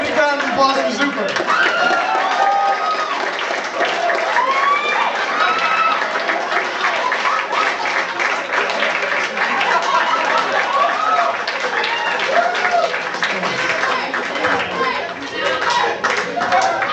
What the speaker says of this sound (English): Big round of applause for Zuper.